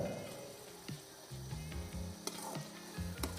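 Green chillies frying for a mountain goat mutton curry, a close, bright sizzle with bubbling and scraping stirs, continuous with small bursts.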